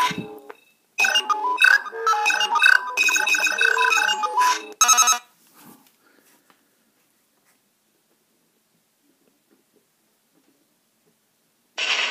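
Power Rangers Megaforce Deluxe Gosei Morpher toy scanning a card, giving off a bright, busy burst of electronic beeps and jingle tones for several seconds, a short extra chirp, then long silence and a brief electronic blip at the end.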